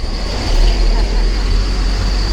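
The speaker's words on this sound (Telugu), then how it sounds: "బయలుదేరిందిగా కొత్తూరు లంక బస్సు" Kothuru Lanka bus pulling away, a steady low engine rumble with road noise holding at a constant level throughout, close by.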